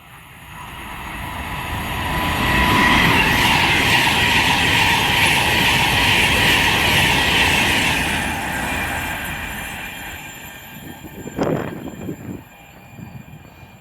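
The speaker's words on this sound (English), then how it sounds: "the next train to pass is going to be a Class 390 Virgin Trains Pendolino" A Class 390 Virgin Trains Pendolino on the West Coast Main Line at Hartford, heading toward London Euston, swells into a loud rushing roar as it passes close, fades after about eight seconds, then gives a brief sharp clatter near the end.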